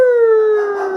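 A voice imitates a wolf howl for a shadow puppet show, one loud, sustained, close tone that slides slowly downward over about a second.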